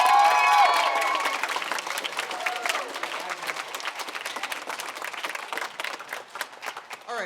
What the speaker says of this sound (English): One last round of applause for all of our seniors.